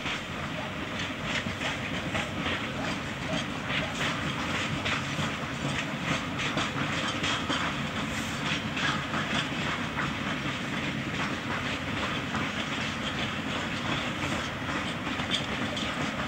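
A long freight train made up of a variety of wagons rolling past in China, a steady rumbling roar with continuous rhythmic wheel clatter over rail joints, close and sustained throughout.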